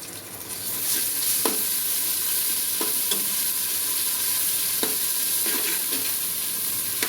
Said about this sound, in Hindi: फिर अदरक और लहसुन का पेस्ट डालकर भूनेंगे।